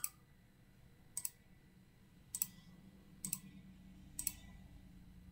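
Five sharp mouse clicks, some doubled, spaced about a second apart at a computer, faint and close in a quiet room.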